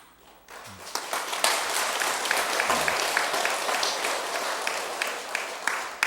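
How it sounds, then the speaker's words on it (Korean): A Buddhist sermon audience claps steadily in a hall for several seconds, a dense crowd of hands right after a brief quiet opening, with a faint voice murmuring near the start. "공연히 박수 치지 마시오."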